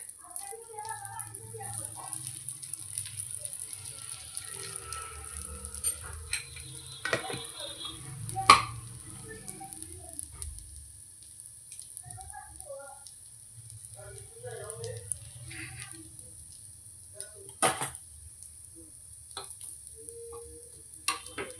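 Rice appe fry in oil in an appe pan with a steady, soft sizzle that runs throughout, broken by occasional clicks and taps, while a voice talks intermittently over it.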